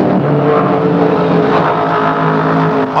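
Stock cars racing at the 1975 Darlington Rebel 500, engines wound to the limit in a close two-car battle, giving a loud, steady, droning roar with a sustained engine tone throughout and no voices.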